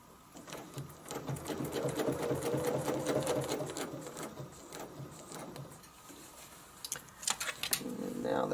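A sewing machine double stitches feather designs on a quilt, running in a steady fast whir for several seconds, then pausing before short sharp clicks and a brief restart.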